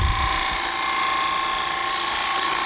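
Wood lathe spinning steadily while a bead is turned on a spindle, giving a continuous whirring hum with a faint high whine and a brief low rumble at the start.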